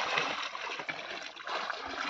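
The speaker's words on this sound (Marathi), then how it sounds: "पाणी टाक पाणी टाक" Water splashes and trickles on open ground while a new village playing field is being made in rural Konkan, a soft continuous pour with a few small splatters.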